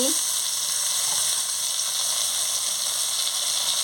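Green chili pieces and mustard paste fry in a pan for an okra chorchori, giving a loud, steady, close sizzle with a faint stirring scrape beneath it and no voices.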